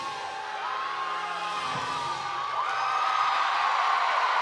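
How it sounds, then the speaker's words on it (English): A crowd at a college gymnastics meet between NC State and North Carolina whoops and cheers after a routine, a dense roar with shrill yells that swells louder toward the end. "And the crowd goes wild for that routine."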